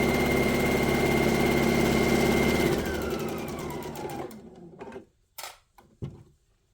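A sewing machine stitching fabric for a book wrap runs loud and steady, then slows and stops, followed by a few short mechanical clunks and handling sounds.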